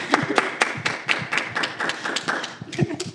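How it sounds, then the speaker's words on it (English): A few people clap in a small podcast room, close and loud, with irregular uneven claps and thumps rather than a full crowd, and voices talking intermittently between them. "Let's give a round of applause,"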